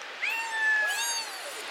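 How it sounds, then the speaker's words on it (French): A small cat at a holiday rental on Réunion gives two short, rising-and-falling meows close by, the second slightly longer, against a quiet background. "Il est trop mignon, ce petit chat."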